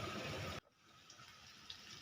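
A tumbler of water pours into a cooking pot of bitter gourd tamarind kuzhambu as a loud, close gush that cuts off abruptly after about half a second, followed by a quiet simmering background.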